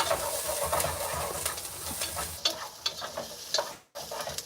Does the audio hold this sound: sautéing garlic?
yes